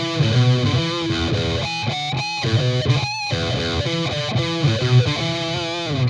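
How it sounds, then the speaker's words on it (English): A distorted electric guitar plays a crunchy, driving riff with sustained overdriven chords and a few quick melodic bends, loud and alone. "You throw a little distortion on there"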